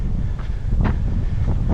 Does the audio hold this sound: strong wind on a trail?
yes